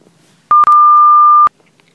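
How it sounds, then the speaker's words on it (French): A single steady electronic voicemail beep sounds at close range, holding one clean tone for about a second after a brief click-like onset, with silence on either side. "Veuillez laisser un message après le bip."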